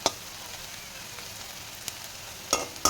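Onions fry in a pan with a low, steady sizzle, and a few sharp stirring scrapes come near the start and end.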